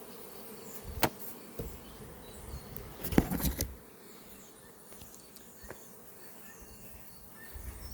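A swarm of bees clings to a tree limb, their soft, continuous buzzing heard outdoors, broken by a few sharp knocks and clicks nearby.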